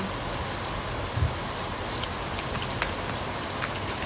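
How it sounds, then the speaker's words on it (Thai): Steady rain falls outside an open window, a continuous even patter with scattered louder drops and a soft thump, no voices. "ไม่รู้ ว่าเสียงฝนดังหรือเปล่า"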